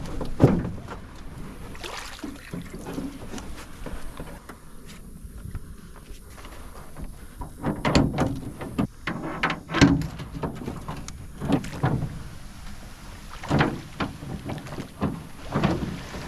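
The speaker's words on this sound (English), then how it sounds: "then we'll get paddling out and just give her a test run" A rowboat is paddled across a lily-pad-covered lake in Central Florida, with intermittent oar splashes, knocks and creaks at an uneven rhythm over faint outdoor ambience, fairly quiet and close, with no talking.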